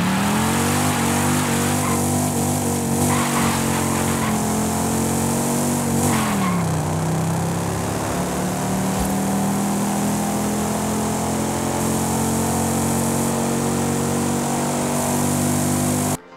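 Ford F100 classic pickup truck engine in Forza Horizon 5, droning loudly and steadily with a shifting pitch that dips partway through, alongside a faint tire scrub, and no talk throughout.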